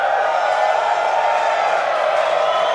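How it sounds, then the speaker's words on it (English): Crowd cheering at a Starship second flight test watch event in Hawthorne, a loud, steady roar of many voices blended into a continuous wash. "And a lot of cheering here in Hawthorne."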